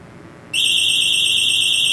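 A UniFi PoE SuperLink siren at 50% volume, about ten feet away, starts half a second in with a loud, steady high-pitched electronic tone that holds unbroken to the end over faint room noise.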